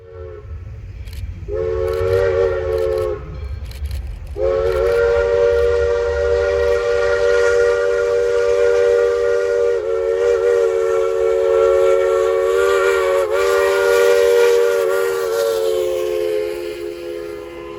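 U.S. Sugar steam engine 148 passes on a mileage excursion in South Central Florida, its steam whistle sounding loud and sustained in a short blast and then a long drawn-out blow over the rumble of the train.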